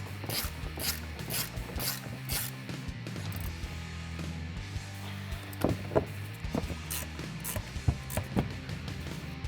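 An 18mm wrench ratchets factory nuts tight onto leveling kit studs on a 2007-2018 Silverado or Sierra 1500 strut, with quick clicking ratchet bursts and metallic clinks over a low background hum, fairly quiet.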